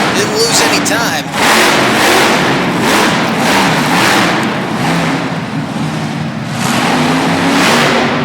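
Chevrolet monster truck engine revving hard in an arena as it restarts and gets rolling, a loud continuous roar with rising and falling surges under an excited announcer's talk.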